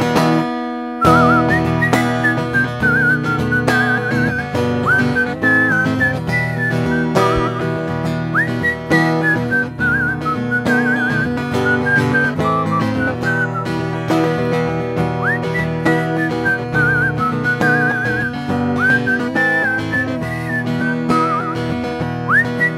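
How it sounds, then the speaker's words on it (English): A whistled solo melody rides on top of a dense, steady musical backing, with repeated trilled phrases and sliding notes carrying on clearly for over twenty seconds. "I'm gonna break it down for many to do a little whistle solo right now."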